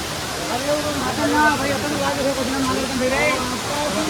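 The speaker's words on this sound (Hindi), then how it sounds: "पूरा झरना" A waterfall at the Narsinghnath temple in Odisha gives a steady, rushing roar that fills the whole clip, while voices talk over it nearby.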